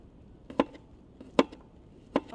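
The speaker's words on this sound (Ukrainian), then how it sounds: "Так, всі овочі нарізані" Vegetables for shakshuka chopped with a knife on a board, three separate sharp thuds spaced about evenly apart, close and fairly quiet, no talking.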